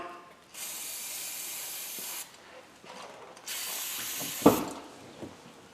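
Aerosol brake cleaner hisses in two long bursts with a pause between, sprayed onto the front brake parts of a Ford Edge, followed by a brief clank and soft handling noises.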